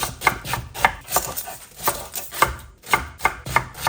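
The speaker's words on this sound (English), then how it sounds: "I'm just going to peel them and chop it into chunks." Knife chopping peeled onion and carrot into chunks for roast chicken gravy, a steady run of crisp close board knocks about three per second, loud and alone.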